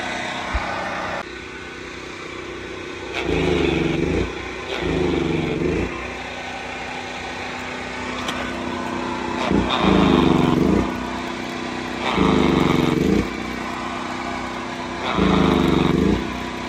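A smoking, faulty power saw runs at a junkyard, its engine droning steadily and surging into about five loud, rhythmic revving bursts, close by.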